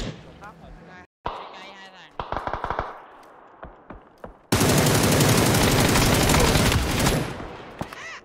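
Video game gunfire with scattered single shots and short bursts, then a long loud sustained automatic volley up close, with a voice talking over parts of it.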